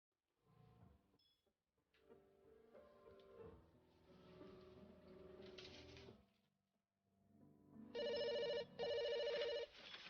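A telephone rings indoors in a household, with two loud bursts of bright electronic ringing near the end after quieter room sounds.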